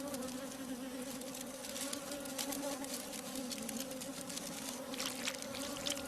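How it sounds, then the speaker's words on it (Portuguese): Worker honey bees buzz around their hive in a dense, steady drone that holds at an even level throughout, close and continuous, with no voices. "abelhas operárias produzem incansavelmente mel para a colmeia"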